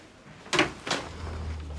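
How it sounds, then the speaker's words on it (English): An office door closes with a quick pair of knocks, a sharp latch click followed by a softer thud. A low hum stays steady afterwards. "Shut the door."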